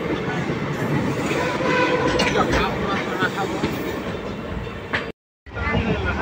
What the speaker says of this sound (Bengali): সাঁইথিয়া থেকে ট্রেন ছেড়ে বেরোচ্ছে